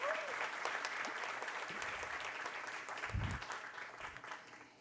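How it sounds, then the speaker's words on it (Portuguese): An audience at an executive board meeting applauds for Patrícia Iglesias, a dense, steady wash of clapping from many hands that swells slightly midway and holds for several seconds. "Uma salva de palmas à Patrícia Iglesias."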